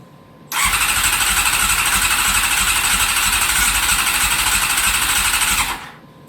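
A carbureted Honda CBR600 barn-find motorcycle, refuelled after sitting empty, cranks and fires into a loud, steady, close rumbling run for about five seconds before cutting off abruptly.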